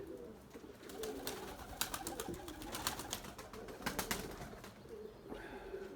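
White pigeons coo in low, soft throaty calls, mixed with scattered clicks and rustles nearby, fairly quiet and close.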